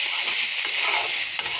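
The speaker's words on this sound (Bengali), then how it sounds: "একটু ভালো করে নেড়ে চেড়ে নিতে হবে।" Masala paneer being stirred in a hot pan with spices, giving a steady close sizzle and frying hiss broken by two sharp scrapes of the spoon, with no voices.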